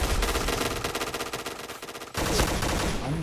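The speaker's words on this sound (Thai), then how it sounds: "มันเป็นปืน SMG อ่ะมันก็จะต้องยิงในระยะใกล้" Rapid SMG bursts in the shooter game Point Blank, loud close automatic fire in two bursts separated by a short break.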